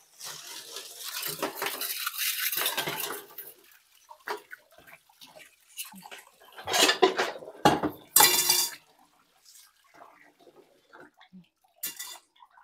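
Plates and dishes clatter and clink in scattered bursts as a kitchen is cleared, with pauses between, close by and fairly loud, with occasional running water.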